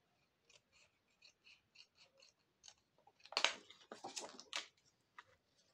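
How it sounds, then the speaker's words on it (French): Scissors snip a small triangle out of paper for a handmade fan card, a row of soft, evenly spaced snips followed by a quicker cluster of louder crisp cuts, close and quiet. "donc je coupe un petit triangle"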